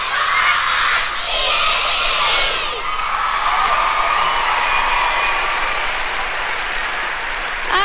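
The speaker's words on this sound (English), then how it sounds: "I want you to yell it so loud that the people all the way up there in the top can hear you" A concert audience in a church hall cheering and yelling together, a loud sustained crowd roar with whoops and scattered applause.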